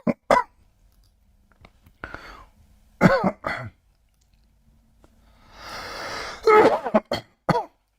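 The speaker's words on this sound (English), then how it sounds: "I need to cough heavily" A person coughs heavily in short, harsh bursts with throat clearing and a raspy breathy stretch between them, close and loud, scattered irregularly over a quiet background.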